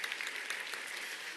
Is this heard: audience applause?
yes